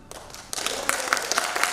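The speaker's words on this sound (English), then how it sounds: "Big round of applause for them." Audience applause at a school Greek gods festival, welcoming performers dressed as gods, goddesses, heroes and monsters; a moderate, steady patter of clapping that swells after a brief lull and continues evenly throughout.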